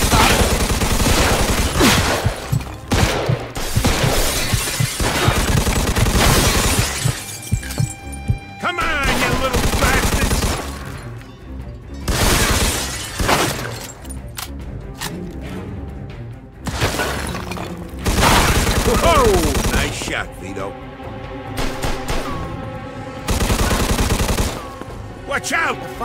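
Loud, dense gunfire in a Mafia II Definitive Edition shootout, with bursts of automatic fire, single shots and shattering glass coming in waves, and shouting voices mixed in.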